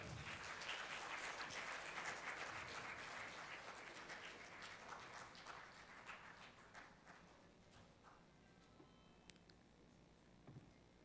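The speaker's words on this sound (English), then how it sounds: "give a very good applause for our speaker" Audience applause at a medical scientific conference, a burst of many hands clapping that gradually thins out and fades over about ten seconds, heard quite faintly.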